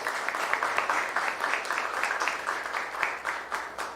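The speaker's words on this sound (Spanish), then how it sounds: "Un aplauso, por favor" Audience applause at a regional FAO launch event in Mexico, fairly soft and steady clapping from a moderate crowd, continuing evenly with no talk.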